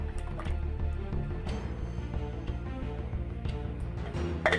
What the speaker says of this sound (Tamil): இது ஒரு கிண்ணில் ஊற்றி வச்சுக்குவோம்